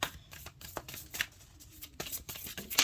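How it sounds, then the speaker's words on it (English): Oracle cards are shuffled by hand in a series of quick, papery riffles and slaps, close up and fairly loud, with brief pauses between. "cards have been, throughout this entire series, very difficult to shuffle"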